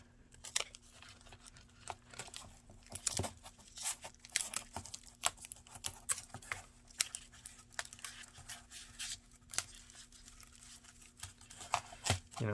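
Masking tape torn off the roll in short rips and pressed onto a freestanding figurative sculpture form, giving quiet crinkling, scattered crackles and tearing bursts close by, with no talk.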